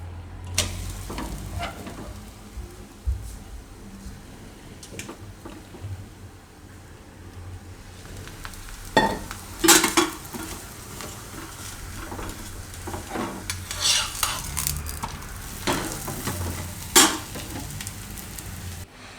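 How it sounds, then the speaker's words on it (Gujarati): A mango paratha (keri na parotha) roasts on a hot pan, giving a low steady sizzle with scattered soft scrapes and taps as it is turned and pressed, close by and with no talk. "ને બીજું આપણે વણી લીધું છે તો એને આપણે એ જ રીતે શેકી લેવું"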